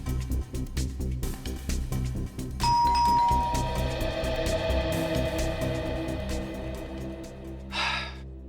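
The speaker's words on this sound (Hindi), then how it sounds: "आप एक बार और घंटी बजाने का कष्ट करेंगे?" A household doorbell rings with a bright electronic chime that sustains and decays over several seconds amid rustling and faint breathing sounds, then a brief burst of noise near the end.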